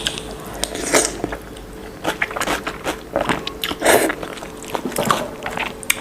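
Someone eats Thai tam sua, a spicy pounded salad served with wet rice noodles and vegetables, and the close, wet chewing and crunching carries on in irregular bites with no speech.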